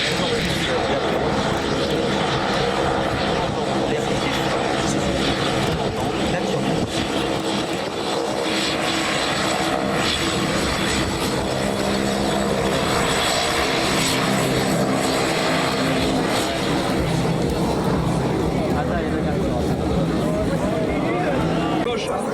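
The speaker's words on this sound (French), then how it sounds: "Le Rafale sur le display de 2024." A Dassault Rafale fighter jet roars continuously through a flying display at the Istres air base open day. The heavy jet noise fills the whole stretch, with voices faintly audible underneath.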